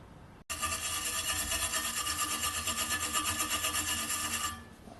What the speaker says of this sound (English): This is a stainless steel brush.